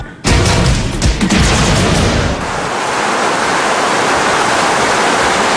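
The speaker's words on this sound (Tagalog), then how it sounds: "nang bumuhos ang ulan na sinamahan pa ng kulog at idlat" Heavy rain pours down in a thunderstorm in Bataan, a dense, loud, continuous roar of water, with a few sharp knocks early on before the downpour settles into an even hiss.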